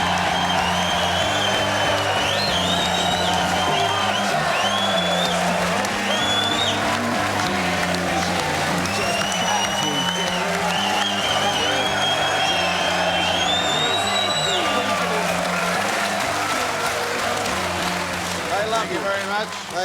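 Studio audience applause and cheering for a host entering a TV football talk show, a continuous roar of clapping and whoops under music and voices, loud and steady throughout.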